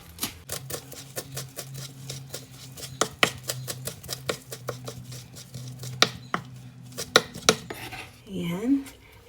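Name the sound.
knife chopping mint and parsley small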